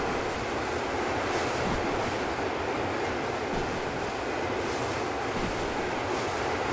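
A locomotive accelerating in a video game gives a steady, loud rumbling roar of rolling wheels and engine noise that holds constant throughout, with no talking.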